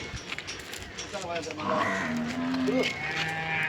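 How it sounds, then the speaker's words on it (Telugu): Bulls tied in a cattle shed at Rangasaipalle give a few drawn-out, nearby lows in the second half, over a busy background of shuffling and ambient noise. "మొత్తం ఐదు గిత్తలు ఇక్కడే ఉంటాయన్న ఇక్కడే కట్టేస్తారు"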